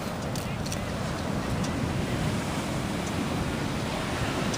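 Ocean waves roll at the beach, forming a steady, loud wash of surf mixed with wind noise that continues without a break.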